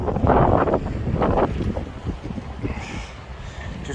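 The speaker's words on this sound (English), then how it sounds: "It's a bit windy." Gusty wind blowing by the water on a fishing outing, buffeting the microphone in strong rumbling bursts that ease and return, with no talk.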